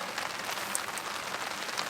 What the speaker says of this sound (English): it's 8 o'clock and it's still raining